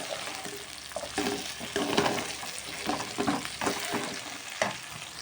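Ground spice paste of small onions, chili and tamarind sizzles and spits in a hot pan, with a steady crackle broken by repeated scraping stir strokes close by.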